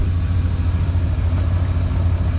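A 1993 GMC Suburban truck engine runs steadily while driving, a dense low rumble with road noise, continuous and fairly loud, no voices.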